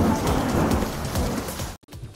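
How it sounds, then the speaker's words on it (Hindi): Heavy rain pours loudly during a storm in Srinagar, a dense roaring downpour with rumbling low noise that briefly cuts out near the end. "श्रीनगर में तेज बारिश और आंधी आई"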